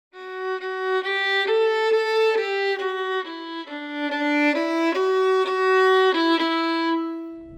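Solo violin plays a sustained, shaped phrase of several bowed notes with swelling and easing dynamics, close and clear, with no talking.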